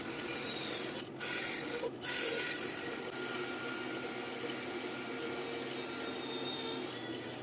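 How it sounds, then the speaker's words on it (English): A steady, continuous sawing or grinding drone cuts through a block of desert ironwood for a knife handle, a constant mechanical roar with two brief dropouts early on and no talking. "I traced the tang out onto a block of desert ironwood and cut it out."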